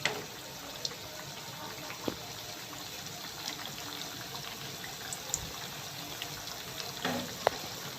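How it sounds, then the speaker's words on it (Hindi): Sweet tikki snacks frying in oil over medium heat, giving a steady, soft sizzle with faint bubbling throughout and a few light clinks of a utensil. "तो सारी डाल देंगे और उनको फ्राई कर लेंगे।"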